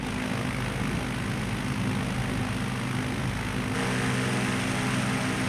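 Propeller airplane engine in Microsoft Flight Simulator holds a steady drone while taxiing, loud and continuous with a slight shift in tone partway through.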